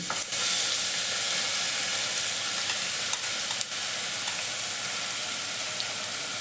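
Onions frying in hot oil with cinnamon sticks and cloves, a steady close sizzle with faint stirring scrapes throughout and no talking.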